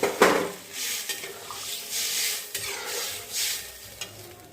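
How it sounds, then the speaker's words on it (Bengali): Vegetables cooked down in a pan, apparently cauliflower with paneer, hiss and sizzle as water goes in, with scraping stirs and a sharp utensil clank near the start and several bursts of steam-driven hiss after. "এখন জল দিয়ে দেব।"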